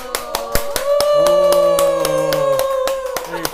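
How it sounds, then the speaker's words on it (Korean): A studio audience at a live Korean talk-show broadcast gives a few sharp, close claps over a sustained bright musical tone, brief and punchy. "네. 박수. 네, 박수."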